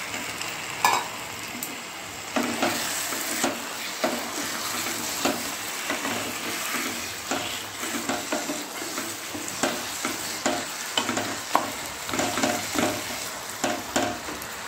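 Catla fish heads stirred in a pan with mung dal, giving a steady frying sizzle broken by repeated scraping and stirring strokes, close and fairly loud, with no voices.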